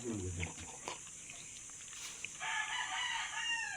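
Chickens clucking and calling nearby in short bursts, with a brief crowing-like call toward the end.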